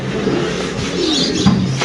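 Spanish pigeons coo softly at a pigeon farm, a few low murmuring calls close by over a faint background hum.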